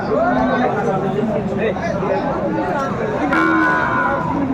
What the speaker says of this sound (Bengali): বেশ সুন্দর গরুগুলো কালেকশন করছে বেলাল ভাই